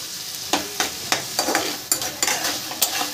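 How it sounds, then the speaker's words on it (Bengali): Banana flower fries in hot oil with a steady sizzle, punctuated by about eight sharp scraping stirs of a spatula against the pan, close and fairly loud. "এই তেলের মধ্যে মোচাটাকে আমি একটু হালকা করে ভেজে নেব।"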